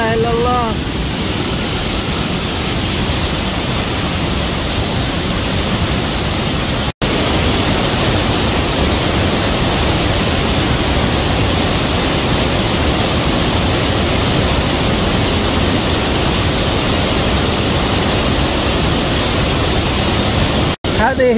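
The Martvili waterfalls near Kutaisi, Georgia, pour as a loud, constant broadband roar, heard close and unbroken apart from two brief cuts.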